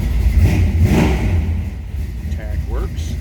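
A 1957 Chevrolet Sedan Delivery street rod engine runs loud and close, its low rumble swelling and easing as the throttle is blipped, with a voice talking over it briefly.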